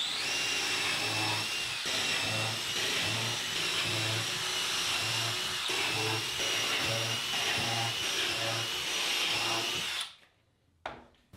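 A power saw whines steadily while cutting almost through wood for a miter sled, a loud continuous drone with rhythmic low pulses, then cutting off abruptly near the end, leaving near silence.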